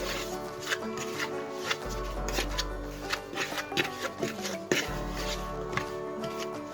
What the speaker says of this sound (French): Je vais bien travailler mon beurre et mon sucre